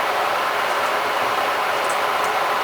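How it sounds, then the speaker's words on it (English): Steady, loud broadband rushing and roaring of water at a rolling boil in an electric kettle, close by and unchanging, with no voices. "that's my kettle boiling right beside the camera"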